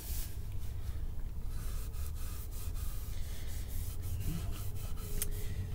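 Oil finish being flooded and rubbed by hand onto a wooden guitar body, a steady close soft rubbing and wiping texture that continues with small scuffs and no talking.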